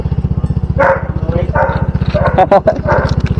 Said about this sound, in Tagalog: Aso niyo po yan?